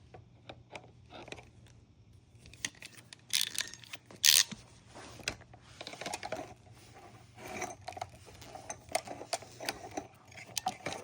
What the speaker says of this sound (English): I'm going to go ahead and take the PEX tool and clamp that down